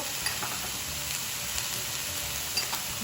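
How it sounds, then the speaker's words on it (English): Cabbage and onions sizzle steadily in a skillet on high heat, a dense continuous hiss with faint crackles and no talking. "toss our vegetables in the skillet on high heat"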